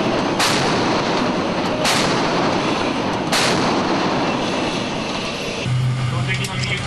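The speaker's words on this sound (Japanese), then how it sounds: "この目標に対し警告射撃を行う。" The main gun of the JMSDF Aegis destroyer DDG-175 Myoko fires warning shots at sea. Three loud, sharp blasts come at steady intervals over a constant roaring rumble, and a low tone comes in near the end.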